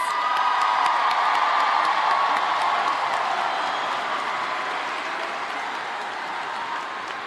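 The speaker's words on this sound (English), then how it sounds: "let's first take a second to applaud our newest Bobcat graduates." A large crowd at a Cy-Fair High School graduation ceremony applauds and cheers for the new graduates, with steady clapping mixed with whoops and shouts, slowly easing over several seconds.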